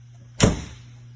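The big rear doors of an ambulance give a single brief clunk and rattle as they open, close by, over a low steady idling hum.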